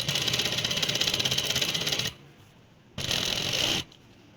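A sewing machine stitches lace trim onto fabric. It sounds close and loud as a rapid, even mechanical whir, with a run of about two seconds, a short pause, then a second burst.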